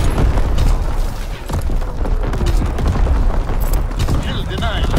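Naval artillery barrage in the video game Call of Duty: WWII, heavy booming blasts rumbling continuously with crackling debris and distant gunfire, radio-style voice lines heard over the din.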